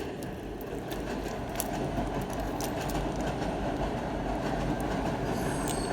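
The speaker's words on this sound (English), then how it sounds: "There's a train." A train rolls past continuously in the background, a steady broad rumble with faint wheel squeal and clatter, moderately distant and constant throughout with no talk.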